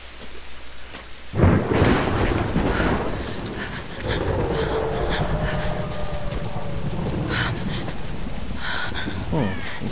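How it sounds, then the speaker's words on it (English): A thunderstorm with heavy rain in the Tomb Raider video game, where a loud thunder crack opens into a long rumble over a steady, dense hiss of rainfall. "take shelter from the storm."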